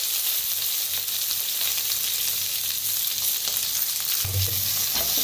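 Mustard seeds and ground masala paste roasting in a pan for vada pav filling, a steady close hiss of frying throughout with a brief louder crackle near the end, no voices.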